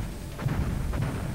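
A mine fired from a boss bursts into flames right in front of the hero and dragon in the Saturn game Panzer Dragoon Zwei, two muffled booms rumbling low over a steady background roar.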